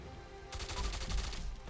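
A Desert Eagle from Fallout 4's Mysterious Stranger fires in a quick cluster of heavy, booming shots after a brief quiet lead-in, loud and close.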